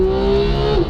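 A Porsche 991 GT3 engine screams at very high revs, heading toward 9,000 RPM, in a loud, steady, tight whine that dips slightly right at the end of the brief burst.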